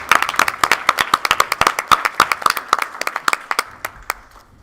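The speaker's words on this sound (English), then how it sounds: "Another round of applause." A small group at a school board meeting claps for a few seconds, crisp individual hand claps close to the microphone that thin out and fade toward the end.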